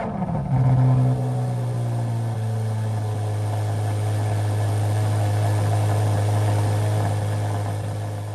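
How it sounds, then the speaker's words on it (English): A Chevrolet Corvette C8 Z06 flat-plane V8 bursts to life on a cold start with a sharp rev flare, then settles into a loud, deep, steady high idle that holds throughout, close by with no talk. "The first thing that I noticed was the grand and glorious cold start."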